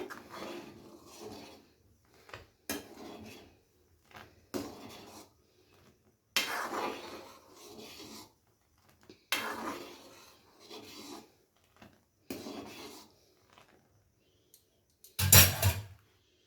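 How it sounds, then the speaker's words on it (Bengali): Rice being stirred into boiling milk in a pot for nalen gur (date-palm jaggery) payesh: repeated scraping, rubbing strokes come in short bursts with quiet gaps, ending in a sharper clattering knock. "আর চালটা দিয়ে কিন্তু সাথে সাথে অনবরত নাড়তে হবে, নেড়ে যেতে হবে"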